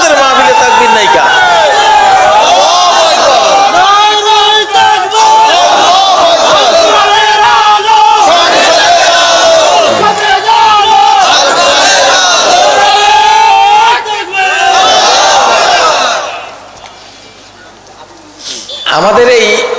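A large crowd at an Islamic gathering shouts a takbir chant in loud, rhythmic waves of massed voices. The chanting holds strong for about sixteen seconds, then drops away abruptly before a brief swell returns at the end.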